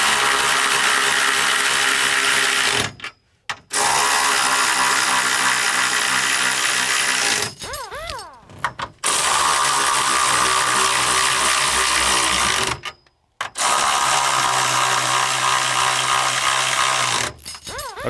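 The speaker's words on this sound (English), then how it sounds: "Now we're going to use our 17mm socket and spin these down." A power tool with a 17mm socket spins bolts down on a rear strut brace being installed on a car, loud steady whirring in four long bursts separated by brief pauses.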